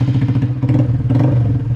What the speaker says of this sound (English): Let them hear the exhaust.